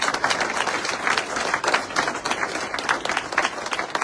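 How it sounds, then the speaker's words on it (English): An audience at a Cricket South Africa function applauding, dense steady clapping from many hands throughout, fairly close and sustained with no speech over it. "Can we give all those people a great round of applause?"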